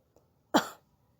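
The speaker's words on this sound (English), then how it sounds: "Number 10, cough. Is something like this." A single short, sharp cough given by a teacher as a demonstration, close and clear against near silence, preceded by a tiny faint click.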